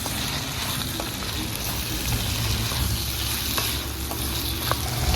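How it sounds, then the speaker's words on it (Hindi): Sliced onions with chopped tomatoes frying in a pan for paneer butter masala, a steady dense sizzle throughout with faint scraping of stirring, no voices. "प्याज को फ्राई करते हुए लगभग हमें 2 मिनट हो गई है"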